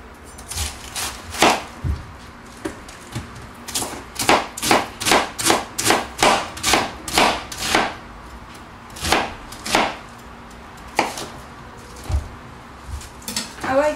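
A knife chops vegetables on a board for spring coleslaw, a quick run of sharp, evenly spaced cuts, close and clear, with a few scattered chops before and after.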